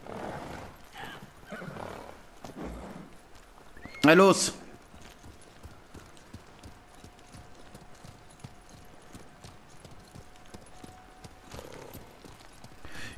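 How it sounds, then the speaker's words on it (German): Horse in the Ghost of Tsushima video game gives a short, loud neigh near the middle, with hoof clip-clop and someone speaking German around it. "Ja, wo ist denn das Pferd?"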